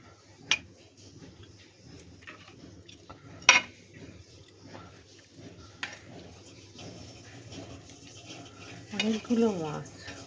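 Pieces of bhetki fish are mixed by hand into a mustard spice paste, giving soft scattered clinks and a few sharp taps against the dish, with a brief wetter, busier stretch of mixing near the end.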